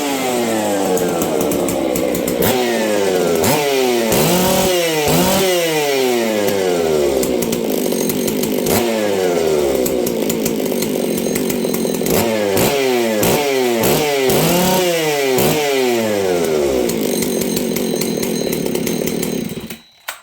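A two-stroke chainsaw engine runs at fast idle, loud and close, its buzzing tone repeatedly surging and dipping in uneven revs for about twenty seconds before cutting off abruptly at the end.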